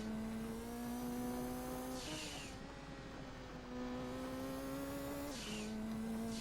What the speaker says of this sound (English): because I'm driving a Pikes Peak car. And holy shit, this thing is quick